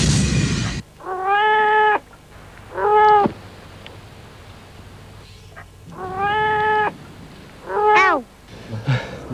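A cat lets out a series of loud, drawn-out meows, some rising and falling like wails, separated by quiet gaps, close and clear with no talk over them.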